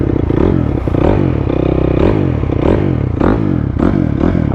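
Honda CRF250R dirt bike engine running loud and close, a steady, throaty mechanical roar with rising and falling revs and a few rapid throttle blips, alone without talk.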